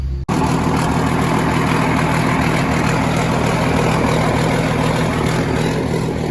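An old John Deere winch engine idles steadily just after a cold start, a loud, continuous low rumble with even mechanical chatter that runs unbroken throughout, no talking.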